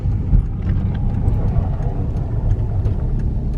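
Low, steady road rumble from a Subaru Legacy GT with a suspected wheel bearing or transmission fault, a continuous droning drone with slight pulsing, heard close while driving with no talking.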